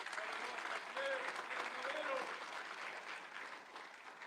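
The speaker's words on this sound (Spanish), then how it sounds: "Si va a aplaudirle su gloria, apláudale." A congregation applauds during a church sermon, a broad wash of clapping from a large room with a few voices faintly calling out beneath it, steady and fairly distant before easing slightly toward the end.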